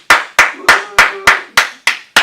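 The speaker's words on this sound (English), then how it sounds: "I like my claps." Hands clapping in a studio, eight sharp, loud claps in a steady, slightly slowing rhythm, close up with no talk over them.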